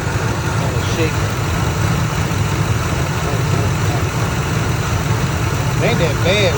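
A 2003 Ford Expedition engine idles with a slight shake, a constant low rumble underneath someone speaking, and a few faint chirpy tones near the end.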